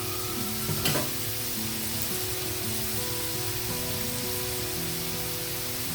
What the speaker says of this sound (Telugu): ఆనియన్ కొంచెం తొందరగా వేగడానికి మనం ఉల్లిపాయలకి సాల్ట్, పసుపు యాడ్ చేద్దాం